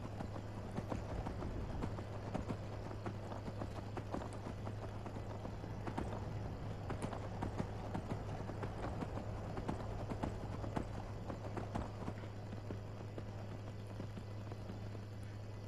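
Horse hooves gallop in the video game Skyrim, a steady, unbroken stream of rapid clip-clop beats over a constant low hum, with no voices.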